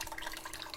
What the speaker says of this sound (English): Warm water. Yeah, pouring water.